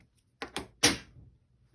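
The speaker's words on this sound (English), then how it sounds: "just threw my scissors" A few quick clattering knocks, then a sharper hard impact, like scissors tossed onto a hard surface nearby, followed by faint rattling.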